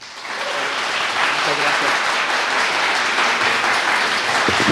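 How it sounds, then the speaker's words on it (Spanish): Sustained audience applause in a university lecture hall welcoming a doctor to speak, building quickly and holding as a steady, full wash of clapping. "les pido un aplauso para recibir al doctor"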